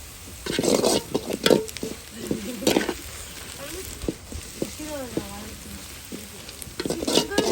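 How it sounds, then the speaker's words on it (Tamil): Onions sautéing in a pan for a squid dish, a soft sizzle with occasional spoon stirs and scrapes running under intermittent talk throughout. "வெங்காயம் நல்லா வதங்கட்டும்"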